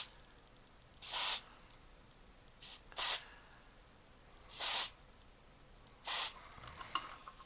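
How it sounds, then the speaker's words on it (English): Aerosol DeoxIT contact cleaner sprayed onto the switches of a Magicteam sleep white noise machine under repair, heard as four short, close hissing bursts with quiet pauses between them. "I'm going to come in here and just spray some deoxit"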